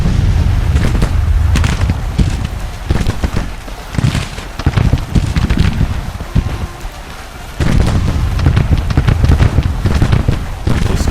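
Cannon and artillery fire in the Civil War strategy game Grand Tactician, with repeated heavy booms and rumbling blasts over a continuous roar of battle, a brief lull midway before the barrage resumes.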